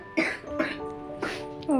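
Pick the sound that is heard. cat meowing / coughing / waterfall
coughing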